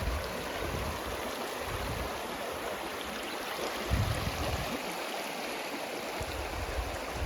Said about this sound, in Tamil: அந்த கூழாங்கல் ரிவர்